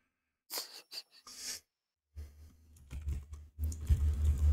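During a Terraria gaming stream, a computer keyboard gives bursts of close clicking and typing. Quiet gaps separate the bursts, then busier keypresses follow over low background hum and breathing.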